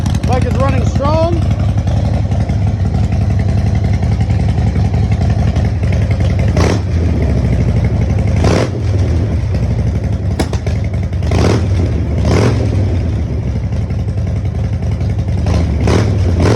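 A 2017 Harley-Davidson Low Rider S with Vance and Hines exhaust cold starts, its engine loud and continuous with a steady, rumbling idle and occasional sharper revs and clatter throughout.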